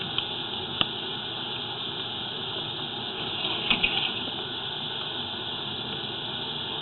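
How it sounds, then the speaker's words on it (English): Water runs steadily from a faucet, giving a continuous close hiss with a couple of faint knocks and clicks and no voices. "Is the hot and the cold backwards on that faucet?"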